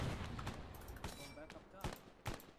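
Rifle fire in an Arma 3 battle, scattered sharp shots and bursts from varying distances, faint and mixed with chatter from players.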